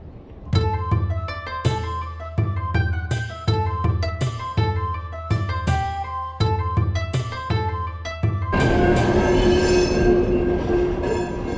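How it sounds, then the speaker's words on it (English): A very long freight train rolls past in Chicago's Chinatown, its wheels clacking in a steady rhythm along with ringing, squealing tones, then giving way to a loud, continuous rumbling roar near the end. "In this insanely long freight train,"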